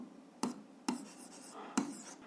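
Pen writing an algebra equation by hand on paper, three short scratchy strokes spaced about half a second apart, close and quiet with no talking.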